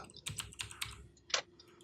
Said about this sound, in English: You're gonna hear my keys.